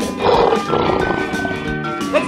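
A lion roars in a children's animal cartoon, a loud growling roar lasting about two seconds over background music.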